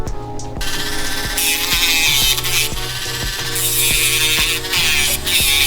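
A handheld Dremel rotary grinder buzzes in short bursts while rounding a Maltipoo's nails, its high whine rising and dropping as it touches each nail, close by with no talk.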